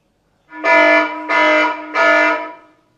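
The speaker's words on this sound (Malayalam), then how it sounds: "അപ്പോൾ തന്നെ റിലേറ്റീവ്സിൻ്റെ വീട്ടിലൊക്കെ അലാറം അടിക്കും" Three loud, harsh electronic home security alarm blasts in quick succession, each buzzing tone lasting about half a second, then silence.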